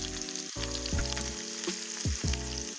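Onion, bay leaf and cumin powder frying in a pan for jackfruit curry, a loud continuous crackling sizzle close by, broken by several clattering stirs of the spoon against the metal.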